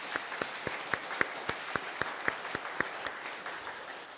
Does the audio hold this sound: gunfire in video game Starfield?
no